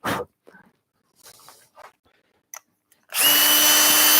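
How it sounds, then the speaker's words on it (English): A small drill bit boring a hole in wood, a loud, steady power-drill whir starting abruptly after a few quiet handling taps and rustles and continuing to the end. "drill a hole with a small drill bit"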